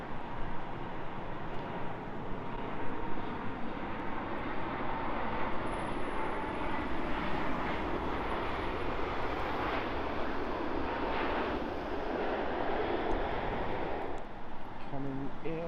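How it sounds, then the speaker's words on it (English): A Ryanair Boeing 737 arriving from Berlin comes in to land at Heathrow, a steady, moderately distant jet rumble and hiss holding throughout, with a faint thin whine partway. "737 coming in from Berlin."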